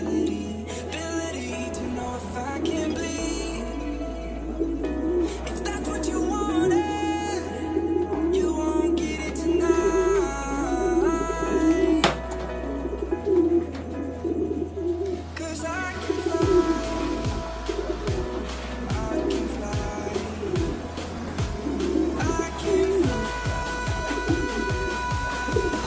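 Imported pigeons in a loft coo repeatedly and close up, soft throaty calls overlapping throughout, with steady background music underneath.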